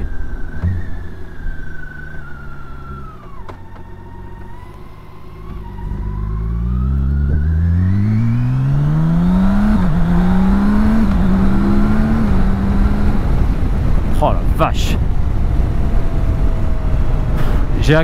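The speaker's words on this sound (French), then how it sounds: "accéléré mais un tiers de la poignée à 3500 tours, 4000 tours, même pas mi-régime, en passant les vitesses au shifter" A 2017 BMW K1600 bagger motorcycle accelerating at about a third throttle, its six-cylinder engine note rising and dropping through quickshifter gear changes, loud and close as it pulls away with rising wind noise.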